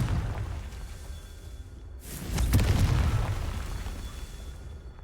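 The Confringo blasting spell in the Hogwarts Legacy video game goes off as a single sharp explosive burst with a whooshing onset, then a deep rumbling boom that slowly fades.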